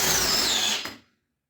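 Cordless drill driving a screw, a steady high motor whine with a loud, close burst that runs for under a second, catches near the end as the screw seats, then stops into silence.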